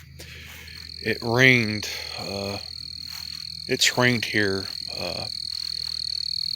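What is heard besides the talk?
crickets and frogs in the woods at night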